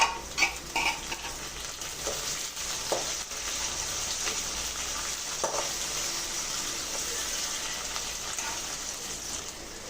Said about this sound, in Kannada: ನಾವು ಇವಾಗ ಕಟ್ ಮಾಡಿದ್ದೀವಲ್ಲ ಹಸಿಮೆಣಸಿನ್ಕಾಯಿ ಮತ್ತು ಕರ್ಬೇವಿನ ಸೊಪ್ಪನ್ನ ಹಾಕ್ಕೊತಾ ಇದ್ದೀವಿ